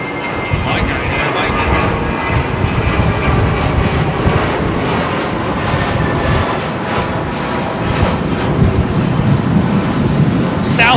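A British Airways A350 at London Heathrow Airport gives a loud, steady jet engine roar that fills the whole stretch, broad and rumbling with no break, with wind buffeting the microphone.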